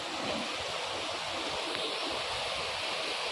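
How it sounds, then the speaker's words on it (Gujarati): Flowing water near a well by a Khodiyar Mata temple, a soft continuous rushing hiss like a small stream, steady and fairly faint with no voices. "અવાજ આવે છે એ પાણીનો જ આવે છે"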